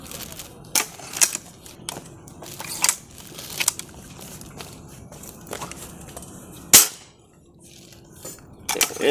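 Several sharp, percussive shots from a Hatsan mod.65 spring-powered air rifle, spaced irregularly with quieter clicks between them; one loud crack near the end stands out, fairly close to the microphone.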